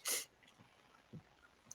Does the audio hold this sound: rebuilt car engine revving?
no